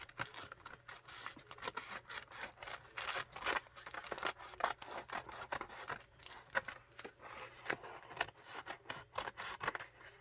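Scissors snip through paper in an art journal, a quick close series of crisp cuts and rustles repeating in an irregular rhythm, quiet and with no voices.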